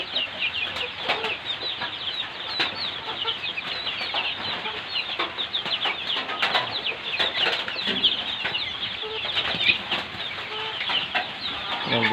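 Month-old Egyptian Fayoumi chickens cluck and chirp continuously close by, with many short overlapping calls and occasional louder squawks over a steady farmyard background.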